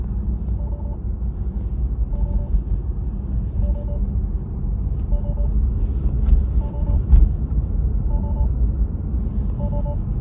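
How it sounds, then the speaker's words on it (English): A Tesla alarm with a faulty front trunk sensor chimes while the car is being driven, a faint repeating two-tone beep roughly every 1.5 seconds over a loud, steady road rumble inside the cabin. "For a day or two, the car was actually alarming while I'm driving."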